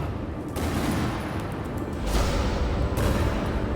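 Gunfire in Batman: The Telltale Series, a dense, loud fusillade of shots with a booming low rumble, close and continuous, with one brief gap.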